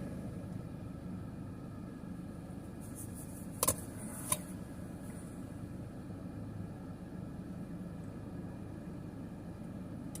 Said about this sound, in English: Sounds to me like we might have a helicopter taking off.